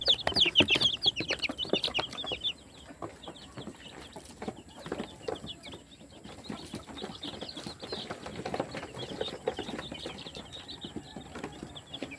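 Young local banded chicks chirp repeatedly in short high bursts, with clucking and occasional wing flaps nearby, as they are prepared for vaccination. The calls are close and continuous, and no one speaks.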